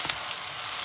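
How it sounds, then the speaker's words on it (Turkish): Tomato paste sautés in a cooking pot, giving a brief, steady, soft sizzling hiss. "Salçamızı da içinde kavurma işlemine devam edeceğiz."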